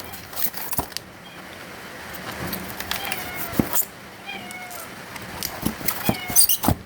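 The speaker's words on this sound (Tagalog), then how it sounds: "May maingay na pusa." A cat meows several times at moderate distance, the cries rising and falling over a rustly, noisy background.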